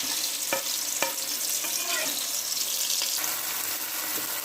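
Mashed paste fries in reheated onion oil in a kadhai for chicken malai handi, giving a soft steady sizzle with a few sharp clinks of a spoon against the pan.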